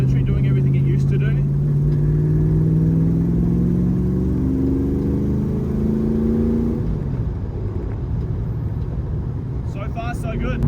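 A hardtop Valiant drives along a road, a mid-pitched engine drone rising steadily before easing off, with road and tyre roar underneath and a voice briefly near the start and end.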